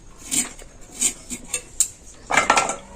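A knife cuts carrots into thin slices, giving sharp taps and clicks on the board at uneven intervals, ending in a quick cluster of cuts, close and fairly loud.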